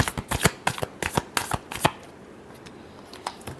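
Tarot cards are shuffled in quick riffling bursts of crisp slaps and flutters for about two seconds, then a few softer card taps follow, close to the listener.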